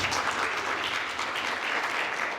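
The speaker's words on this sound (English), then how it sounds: "Can you clap it up for yourselves," An audience at an MLK celebration poetry and performance event claps for itself, a steady, full burst of applause that holds at an even level throughout.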